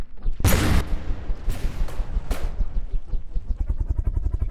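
Cannon fire in the naval combat game From the Depths comes as a heavy booming volley, then a few sharper shots follow amid rumbling, echoing explosions.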